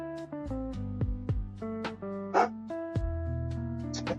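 Dogs bark in a house, a run of short, loud barks and yips at close range, mixed with a few whimpers.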